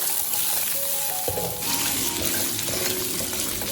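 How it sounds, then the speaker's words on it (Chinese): Pork ribs pan-fry and are stirred until lightly golden before going into a lotus-root soup, making a loud, continuous sizzle with spatula scraping that swells partway through. "把排骨的表面煎至微黄"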